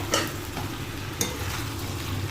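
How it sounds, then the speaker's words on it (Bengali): Cut eggplant pieces go into a pan of vegetables and are stirred, giving a close steady sizzle with two sharp scraping clacks from the spoon, alone without talk. "এখন এর মধ্যে কেটে রাখা বেগুনের টুকরোগুলো দিয়ে নিলাম।"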